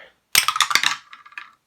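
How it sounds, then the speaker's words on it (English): Dice rolled during a game of Survive: Escape from Atlantis, a sharp clattering burst of several quick knocks that rattles for about a second before settling, close and fairly loud with no talk. "And then he gets to roll the dice."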